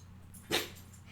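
A single short bark or yelp from a pet dog indoors, fairly close, standing out over a low steady hum.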